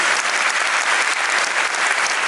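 An audience applauds at the curtain call of a musical about Charles Kao, with dense, sustained clapping from a large crowd filling the hall at a steady loudness.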